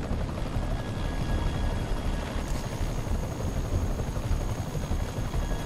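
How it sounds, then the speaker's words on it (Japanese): Helicopter in Marvel's Spider-Man video game, a continuous, dense rotor drone at steady loudness, with the thudding blade wash filling the whole stretch without voices. "了解、ヘリで向かう。"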